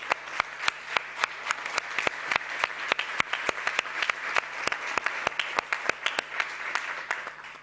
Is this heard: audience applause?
yes